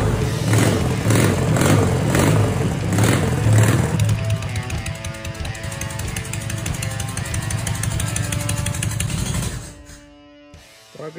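A Soviet K-750 motorcycle's fuel-injected boxer engine on its first start, close and loud, revving in rhythmic pulses, then settling to a faster steady run before cutting out near the end.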